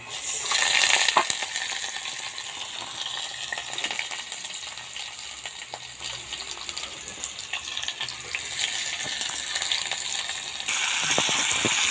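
Onion frying in a pan at home, a steady hissing sizzle with crackles and small pops, moderately loud and close.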